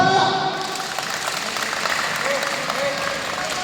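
Response team clapping together on a drill command, a brief scattered round of applause mixed with crowd noise.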